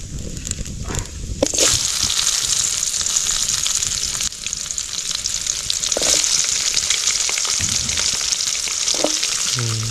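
Cinnamon, fennel and cumin frying in hot oil for quail gravy cooked outdoors in a forest, a loud steady sizzle that continues throughout, with a few stirring scrapes.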